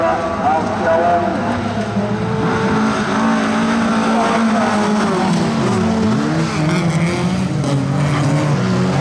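Folkrace cars race around an autumn track, engines roaring and passing with brief tire squeal, loud and continuous under excited commentary.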